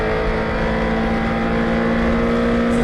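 A touring race car from the United States Touring Car Championship runs flat out, its loud engine holding a steady, strained drone from inside the car with no letup.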